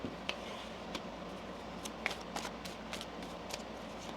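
Tarot cards being shuffled during a reading, a soft run of papery riffles and taps spread through the moment, faint and close against a quiet room with no one talking.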